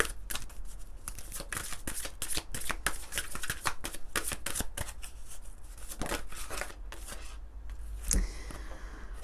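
Tarot cards shuffled close up in a quick run of crisp riffling flicks, ending in a brief sharp snap.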